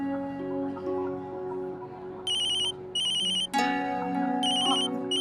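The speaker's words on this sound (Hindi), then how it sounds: "टेलर का फोन है, मैं अभी आती हूँ।" A phone ringtone plays loudly, a melodic electronic tune with repeating bursts of high chiming notes, continuing without any voices.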